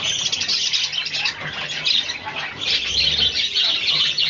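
A pet budgerigar chirps and twitters continuously, a dense bright chatter with some wing flapping mixed in, close by and with no talking.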